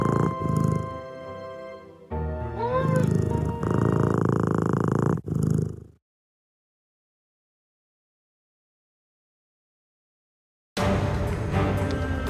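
A cat purrs steadily and closely in the Nancy Drew game Mystery of the Seven Keys, a continuous rumbling broken by short pauses and a long silence before it resumes.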